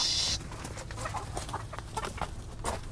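Two roosters on a farm, one white and one black, give short, faint clucks and calls in a quiet yard, scattered across a few seconds.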